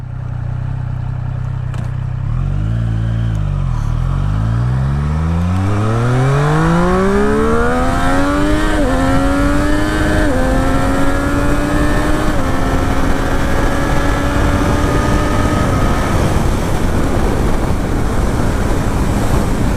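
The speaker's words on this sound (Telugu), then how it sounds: "థ్రాటిల్ ఇస్తుంటే ముందుకు పుల్ చేస్తూనే ఉంది బండి" A 2023 Triumph Street Triple RS in sport mode pulls hard through the gears, its engine note climbing steadily with brief dips at each upshift, loud and close under strong wind rush, with no talk.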